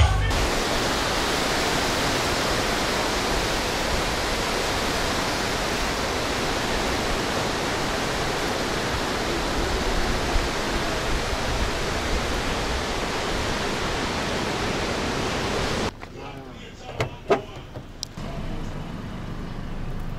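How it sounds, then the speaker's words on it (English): Ocean waves at Sakumono Beach in Ghana give a steady broadband surf wash for about sixteen seconds, then cut to a quieter stretch with faint clicks and handling noise. "Take a moment to enjoy the sound of Ghana Beach."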